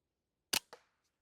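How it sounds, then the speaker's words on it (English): A suppressed .22 rifle fires a single quiet shot into a tree at an outdoor range, a short sharp crack followed by a softer second click, then silence. "I'm going to shoot it into the tree just to show you how quiet it is"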